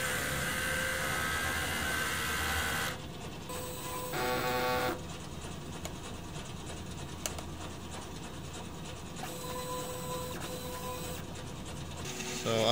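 A DTF printer runs its head cleaning cycle, giving a steady mechanical whir with pump and carriage noise that shifts in tone partway through and carries on continuously with no talk.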